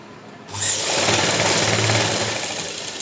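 A sewing machine runs steadily, stitching a seam on a pair of straight pants, its fast mechanical whir loud and close after a brief quiet start.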